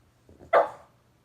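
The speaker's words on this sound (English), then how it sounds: "My dog is distracting me because he's sniffing a coyote's skull." A dog gives one sharp, loud bark close by as it sniffs a coyote skull outdoors, preceded by faint snuffling and then quiet.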